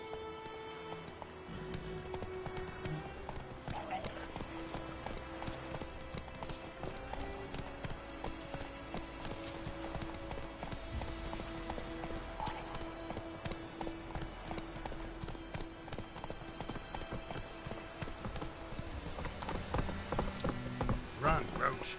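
Roach, the horse in the video game Witcher 3, gallops with a steady, fast clip-clop of hooves that runs throughout, layered with game music and ambient sound while a voice speaks now and then.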